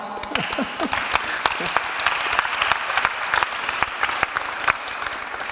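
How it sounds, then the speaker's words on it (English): Audience applause in a seminar room, a moderate crowd clapping steadily with distinct individual claps audible in the patter, sustained throughout, with brief voices at the start. "You can applaud to yourself."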